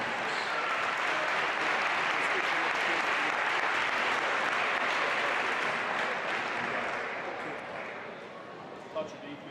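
A gym crowd applauds senior girls' basketball players and their families at a high school game, steady loud clapping across the whole stretch that thins slightly near the end, with some voices mixed in.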